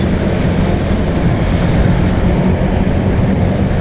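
A Honda Beat scooter engine revved hard and held at high throttle, giving a loud, continuous close-up roar that stays steady for the whole stretch with no talking.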